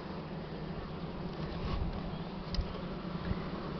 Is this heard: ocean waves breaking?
no